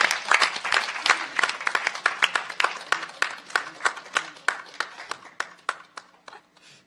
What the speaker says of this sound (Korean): 좀 박수 한번 드려볼까요?